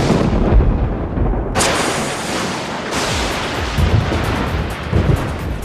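Thunder rolls through a thunderstorm as a loud, continuous rumble. Two sharper crashes break in about a third and half of the way through, with no voices.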